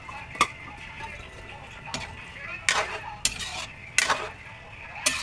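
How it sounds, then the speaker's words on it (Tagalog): A ladle stirs dinuguan in a pot, giving irregular metallic clinks and scrapes against the sides, close and fairly loud over a low background hum. "Mix again."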